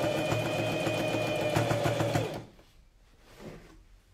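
A sewing machine runs fast and loud at close range while stitching a jacket sleeve, a steady rapid whir for about two seconds before stopping abruptly, followed by faint handling noises.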